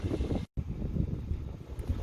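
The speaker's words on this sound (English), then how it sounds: "Sorry about the wind" Wind gusts buffet the microphone outdoors near an airfield and beach, a steady loud low rumble with a brief dropout midway and no speech.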